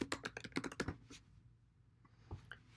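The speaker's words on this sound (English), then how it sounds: "So if we type in our email address," Someone types an email address on a computer keyboard, a quick run of close, quiet key clicks that slows to a few scattered taps, with no talking.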